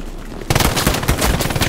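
Loud, rapid machine gun bursts in the World War II shooter Hell Let Loose erupt after a short quiet lead-in and rattle on in dense, fast repeated cracks.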